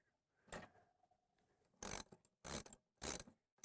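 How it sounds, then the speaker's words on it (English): A half-inch ratchet works loose the swivel assembly on an SDX hose reel, with a short click burst followed by three quick bursts of ratcheting clicks, close and isolated against silence. "Now we'll take our 1/2-inch ratchet or 1/2-inch wrench"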